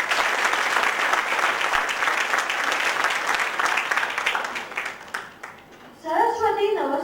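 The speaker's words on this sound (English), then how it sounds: "Can we have a huge round of applause for it?" Loud audience applause fills a hall at the BICON 2014 commerce and management conference, dense steady clapping that fades before a voice begins speaking near the end.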